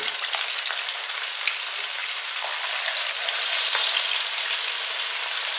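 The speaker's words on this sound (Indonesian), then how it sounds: "Sekarang kita goreng kacangnya." Peanuts frying in hot oil in a pan give a steady, bright sizzle with scattered crackles and pops, close and alone, swelling slightly toward the end.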